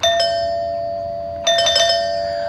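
A Ring doorbell chime rings during an installation test, two bright bell tones sounding close and clear, the first fading out before a second chime strikes about a second and a half later.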